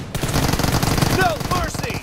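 Rapid automatic gunfire from a team-based shooter video game rattles continuously and loudly, with brief whistling ricochet-like tones near the end and a voice shouting over the action.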